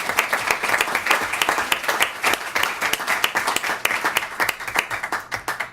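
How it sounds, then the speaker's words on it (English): An audience at a conference on cities, migrants and refugees applauds a panel of mayors, a dense round of clapping with distinct sharp claps, swelling and easing slightly over several seconds. "let me invite you all for a round of applause for this conversation and for the panel of mayors"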